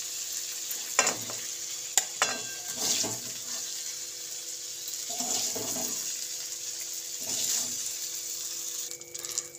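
Chicken pieces fry in oil in a pan at home, a steady moderate sizzle close by, punctuated by several scraping stirs and occasional clinks of a utensil against the pan.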